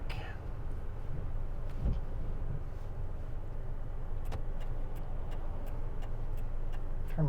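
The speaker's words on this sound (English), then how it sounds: "Turn my signal lights on" A car's turn signal ticks in a steady, regular rhythm from about four seconds on, clear clicks over the low hum of the car interior while driving on Highway 97.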